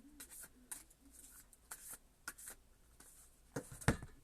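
A deck of tarot cards is shuffled by hand in soft, intermittent rustling bursts with sharper card snaps near the end, close and quiet.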